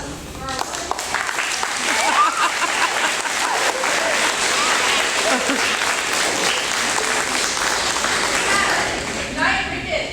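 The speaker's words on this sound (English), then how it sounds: "Let's have a round of applause for our" A theater audience applauds the cast of a haunted mansion stage show, loud sustained clapping and some cheering rolling on for several seconds before tapering, with voices briefly audible at the edges.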